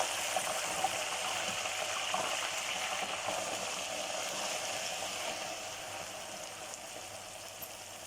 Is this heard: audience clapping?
no